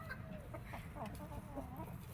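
Chickens in a yard: a nearby rooster and hens making soft, short clucks that repeat irregularly over faint background noise.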